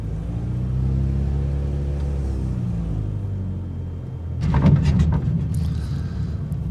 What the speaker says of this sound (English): Another not so smooth landing.